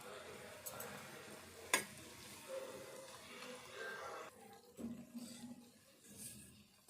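Bread pieces fry in hot oil in a pan, a faint, continuous sizzle with a few clinks and stirring noises, quiet and close, with no talk.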